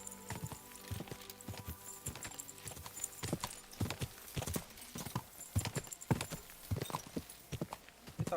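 Horse hooves clip-clop in an irregular walking rhythm inside a video game. The steps are close and moderately loud over a faint background hum.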